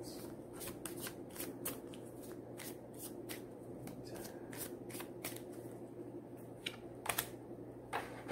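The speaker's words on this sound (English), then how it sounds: "Shuffle that real quick." Angel cards being shuffled by hand, a steady run of soft, quick papery riffles and flicks, close and quiet, with no talking over them.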